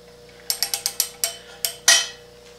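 A rebuilt 383 engine is rotated by hand while a piston rises against a stop, giving a quick series of about eight sharp mechanical clicks and ratchet ticks, close and fairly loud, ending with one louder clack.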